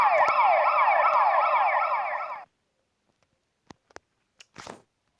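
A loud wailing siren sweeps up and down for about two seconds and then cuts off abruptly, followed by a few scattered clicks and rustles.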